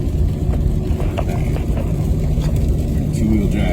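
A truck with 300,000 miles is driven off-road in two-wheel drive during an ice storm, producing a loud, continuous low engine rumble and drivetrain drone close by, with a voice faintly present.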